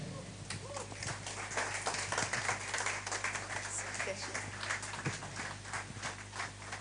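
Conference audience clapping, a dense wash of many hands sustained over several seconds, with a low steady hum underneath and some voices mixed in.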